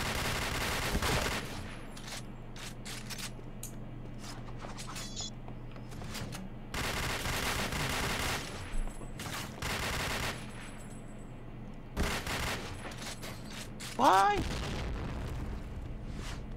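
Rapid bursts of video game gunfire in a clan match, with loud automatic volleys and sharp single shots breaking through intermittently while players talk over them throughout.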